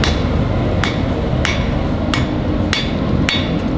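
Hot steel is hammered while forging a knife, with six loud ringing blows at roughly half-second intervals over a constant heavy roar of background noise.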